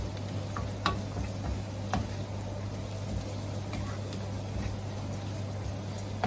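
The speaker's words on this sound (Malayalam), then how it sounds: "ഇനി ഇപ്പം നമ്മളിട്ട് എല്ലാം കൂടി കൂട്ടി നന്നായിട്ടൊന്ന് ഇളക്കി കൊടുക്കാം." Onion, green chili and ginger-garlic paste fry in a pan while being stirred, giving a soft continuous sizzle dotted with light scraping ticks and clicks, moderately quiet and steady throughout.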